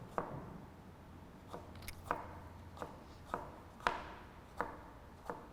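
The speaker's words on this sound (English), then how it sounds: "And then we're just chopping away." A knife chops cucumbers on a cutting board in small, quick movements, with about a dozen crisp, fairly regular taps close by and no talking.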